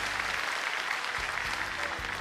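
Studio audience at a Teleton broadcast applauding, a steady broad wash of clapping from a large crowd heard at moderate distance, with no speech over it.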